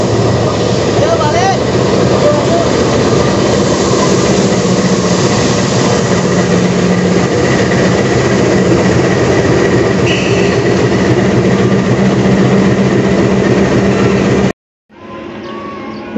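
The Serayu passenger train runs loudly along its rails in Indonesia, heard from close by as a steady rumble with a rhythmic clatter that goes on for some time, then cuts out abruptly before a quieter stretch resumes.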